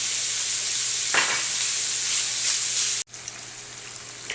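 Ground hamburger meat sizzles steadily in a hot skillet for a keto bacon cheeseburger pie, a dense, continuous hiss that briefly cuts out and then resumes at a slightly lower level.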